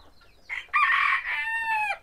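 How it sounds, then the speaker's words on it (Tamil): A rooster at a small private zoo crows once, a loud close cock-a-doodle-doo that rises in short stuttering notes, then holds a long bright final call with no talk over it. "மூணுன்னே கூவிருச்சு கோழி."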